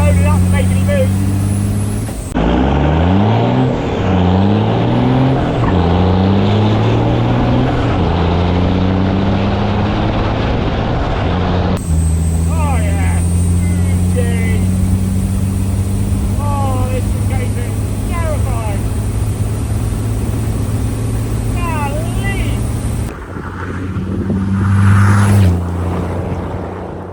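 A Cummins diesel-swapped limousine accelerates hard through the gears, its loud engine note rising and dropping with each shift, a brief lull between pulls, and a voice shouting over the roar near the end.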